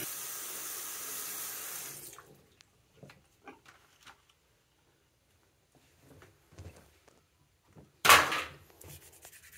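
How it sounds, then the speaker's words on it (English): A toilet flushes after its tank lever is replaced in a home bathroom: a two-second rush of water, then near silence with quiet clicks and handling noises, and a brief sharp burst near the end. "flush it two more times"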